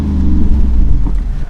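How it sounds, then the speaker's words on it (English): A Jeep Wrangler 392 V8 exhaust, a deep, loud rumbling drone heard up close, steady with slight surges across the moment. "when you want to hear it, which is a phenomenal sounding exhaust sound"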